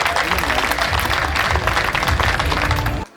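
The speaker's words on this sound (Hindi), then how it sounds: "एक बार दोनों हाथ उठाएं, ताली बजाएं और चंदन राय को बुलाएं।" A large audience at a Hindi Kavi Sammelan poetry recital bursts into dense, continuous applause that stays loud and even before cutting off abruptly.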